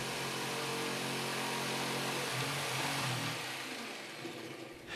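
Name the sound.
jigsaw cutting an opening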